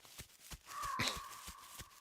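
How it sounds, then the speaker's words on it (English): A bird calls once in the dinosaur survival game The Isle, a short rising-and-falling cry standing out over quiet ambient game sound with soft intermittent thumps like footsteps. "I think that's a bird."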